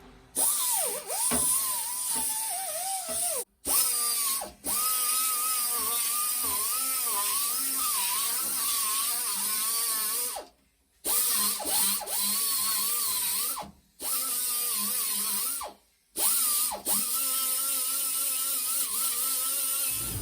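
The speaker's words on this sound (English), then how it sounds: "get the aluminum stringers ground down" A power tool grinds down aluminum stringers in a mini jet boat hull, a loud high whine that wavers in pitch as it bites the metal, running in long bursts broken by brief stops.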